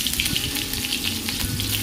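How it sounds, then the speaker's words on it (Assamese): Onion frying in mustard oil in a wok gives a continuous bright sizzle, with a few soft stirring clinks, close and steady without talk. "ভাজিখিনি বনোৱাৰ কাৰণে মই এয়া কেৰাহীত দি লৈছোঁ মিঠাতেল"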